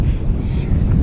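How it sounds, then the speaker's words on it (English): Outdoor wind buffeting a microphone on a bass fishing boat, a steady low rumbling roar filling the whole second without letup. "Wind is blowing."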